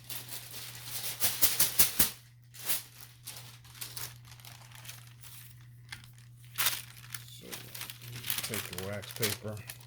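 Wax paper crinkles as it is wrapped and pressed down over a glitter tumbler, loud crinkling bursts at first, then scattered rustles, with a steady electrical hum beneath and a person speaking at the end.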